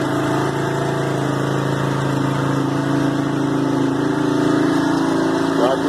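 A restored four-wheeler ATV engine that was once a non-starter now runs at a steady idle close by, giving a constant mechanical drone with no voices over it.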